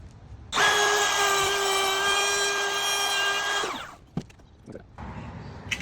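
A power router cuts freehand into a wooden door plate while installing millwork, a loud steady high-pitched whine for about three seconds that winds down, followed by a few knocks and handling sounds.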